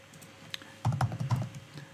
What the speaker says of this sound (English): if I try the same scenario again now and I type Dave with a lowercase d